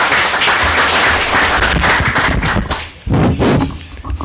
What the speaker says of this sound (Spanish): Y nuevamente lo recibimos con un aplauso